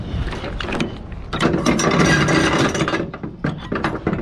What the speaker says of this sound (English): My trusty winch winder. So I'm gonna have to roll all these up.